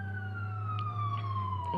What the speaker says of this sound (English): Sounded like a fire truck.